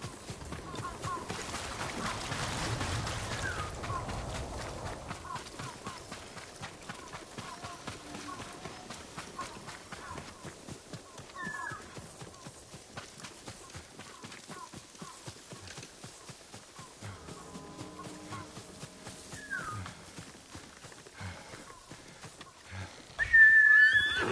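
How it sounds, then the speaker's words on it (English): A horse in Ghost of Tsushima trots with soft clip-clopping hooves and gives a neigh, with a brief whistle and someone speaking at times, all at a quiet, moderate distance. "Good horse."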